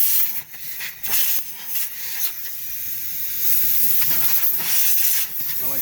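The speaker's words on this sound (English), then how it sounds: "I'll take a air blower, which snuck down there, and pull out all the recessed areas and cracks and crevices" Compressed air blower hissing steadily into the recessed areas and crevices of a car steering wheel during cleaning, a continuous close airy rush with brief dips and bursts.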